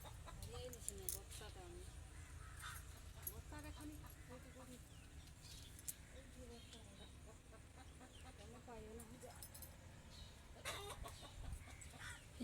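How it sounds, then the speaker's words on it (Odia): Chickens cluck intermittently around a rural home with a pond, ducks, goats and sheep, faint and scattered over steady low background noise. "ସେପଟକୁ ବି କୁକୁଡ଼ା ଅଛି।"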